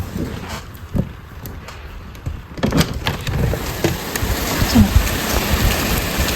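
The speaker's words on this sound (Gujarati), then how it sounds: "જોરદાર વરસાદ" Heavy rain pours steadily, close and loud, with a dense patter that grows stronger partway through and occasional sharper splashes.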